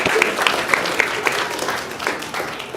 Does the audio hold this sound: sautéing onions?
no